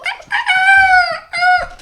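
A person's voice imitates a bantam rooster crow, giving two loud, close, drawn-out crowing calls, the second one shorter.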